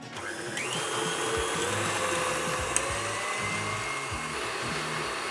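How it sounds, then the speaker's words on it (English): A stand mixer with a whisk attachment runs on high through eggs, sugar and mastiha, producing a steady close motor whir with a rhythmic whipping churn and a faint rising pitch as it speeds up. "Using our whisk attachment, we're going to mix it on high until it triples in size."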